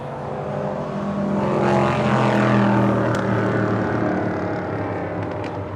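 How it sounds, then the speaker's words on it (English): A Boeing 777-300ER departing LAX for Manila roars loudly, its engine noise swelling to a peak midway with a sweeping tonal drone, then easing slightly, with no talk. "It's Flight 113 heading back to Manila. It's a 777-300ER."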